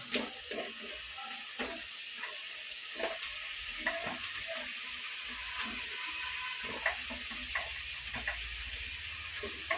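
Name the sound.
tomato, drumstick and radish frying for dried fish curry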